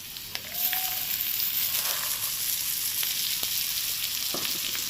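Soaked chickpeas sizzle in a hot pan with spices, a dense continuous frying hiss that rises as they go in, broken by a few light clicks of stirring, with no talk.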